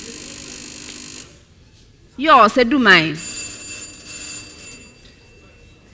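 A contestant's answer bell at a 2017 school quiz between Prempeh College, GSTS and Aduman SHS gives one loud, brief rattling ring after a quiet stretch, and a host speaks briefly.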